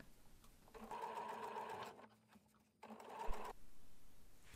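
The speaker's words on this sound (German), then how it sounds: "Die Nadeln entfernen und einfach darüber hinweg nähen." A domestic sewing machine runs in two close, loud bursts, stitching across a seam while sewing a crossover shopper bag, with a short pause between runs.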